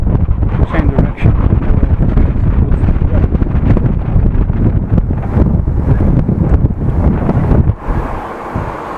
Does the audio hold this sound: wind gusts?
yes